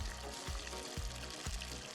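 Leek covered in a pan with butter gives off a soft, steady bubbling sizzle, faint and close, with quiet periodic pops and a watery trickle-like texture running throughout, no talking.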